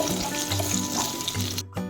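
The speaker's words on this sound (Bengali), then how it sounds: "দেখতেই পাচ্ছ পুরো কুমড়োটা ভাজা ভাজা হয়ে গেছে" Pumpkin pieces fry in a pan with green chilli, turmeric and salt, giving a steady close hiss and crackle with a low background hum, briefly cutting out near the end.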